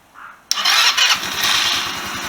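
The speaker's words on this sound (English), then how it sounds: "She idles, but I'm not sure she wants to respond to throttle." A Chinese GY6 scooter engine under rebuild cranks and fires abruptly, then settles into a loud, close, steady idle with a rapid putter.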